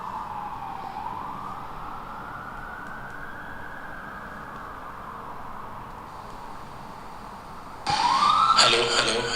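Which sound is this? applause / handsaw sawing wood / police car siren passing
police car siren passing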